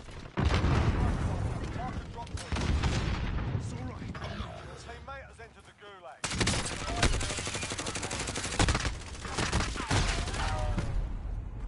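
Gunfire in the Call of Duty Warzone video game, a dense run of rapid shots and bursts that fills most of the stretch, with game voice lines and talk layered over it.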